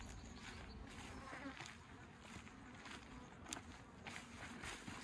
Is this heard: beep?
no